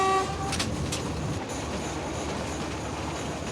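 A train rolls through Antananarivo station in Madagascar, a steady rumbling rattle of wagons with a short horn toot at the start, heard at moderate distance.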